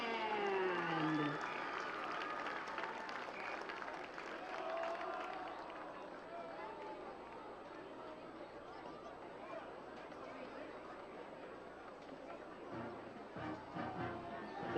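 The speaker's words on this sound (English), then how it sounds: "Let's have one last round of applause for the Independence High School Marching" Stadium crowd at a high school football game applauding the Independence High School Marching Band: broad, distant clapping and cheering mixed with crowd chatter, strongest at the start and settling into a steady murmur.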